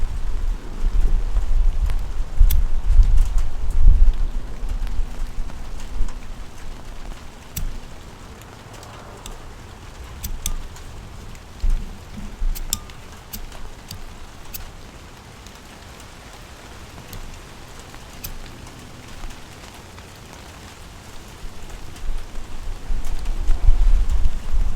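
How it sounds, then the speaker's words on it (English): Steady rain patters on a surface throughout, a soft, continuous hiss with low rumbling underneath that swells and fades like distant thunder, growing a little louder toward the end. "Listening to the rain."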